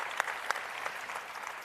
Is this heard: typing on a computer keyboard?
no